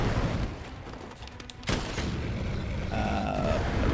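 A heavy bowgun firing poison ammo in the video game Monster Hunter World, a sequence of loud booming shots with a sharp blast partway through, followed by ringing game effects.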